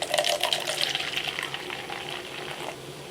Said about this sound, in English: Let's get the Bachelor's Finest glassware out here and pour this out.